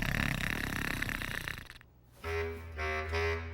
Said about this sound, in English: Dragon started to snore